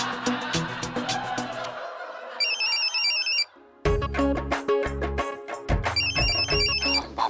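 Telephone ringing indoors in a home setting, a repeating electronic ringtone melody that returns in bursts, set against background music with a short silent gap in the middle.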